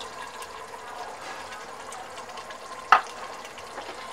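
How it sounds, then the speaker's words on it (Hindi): Flour batter being stirred into chicken nihari in a pot, a soft continuous bubbling and swishing with one brief sharp scrape of a spoon against the pot near the end. "इसको मिक्स कर लेंगे अच्छे से।"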